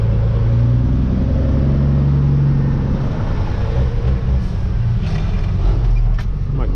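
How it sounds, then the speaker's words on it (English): A dump truck engine runs with a loud, steady low rumble close by, holding an even drone and easing slightly partway through, with no voices over it. "You got a good old dump truck"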